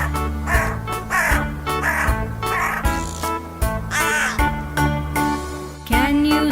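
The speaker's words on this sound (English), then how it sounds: "Caw-caw says the black crow." A black crow caws several times in a steady, repeating pattern, each call clear and fairly close, set over a continuous musical backing.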